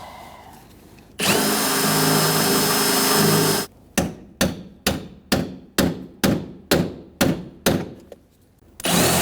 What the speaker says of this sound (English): You don't want to really drill through the door panel.